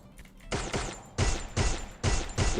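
CG15 gun in the Free Fire video game firing in three bursts of rapid shots, each roughly half a second long, loud and close with short gaps between them.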